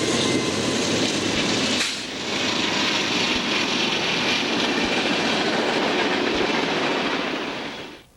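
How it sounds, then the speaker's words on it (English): A westbound Pennsylvania Railroad passenger train rolls past on a four-track main line reduced to two, loud and close, with steady wheel rumble and clatter that dips briefly near the start, then fades at the end. "This westbound train, the 13G, is operating on track 1"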